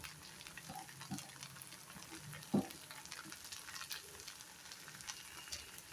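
Horsegram sabzi with coriander and grated coconut sizzles quietly in a pan, a soft continuous frying hiss with small stirring scrapes and one brief louder clink, all faint and without talk.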